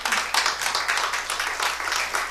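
A church congregation breaks into steady applause, many hands clapping in a dense, even wash that fills the short clip.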